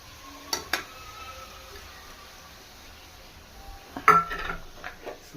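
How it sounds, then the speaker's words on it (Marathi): Spoon scraping and clinking in a pan as dried fish is mixed into an onion-tomato masala, two short bursts of metallic clatter and stirring separated by a quiet stretch of low sizzle. "त्याच्यामध्ये मी सुकट मिक्स करून घेणार आहे"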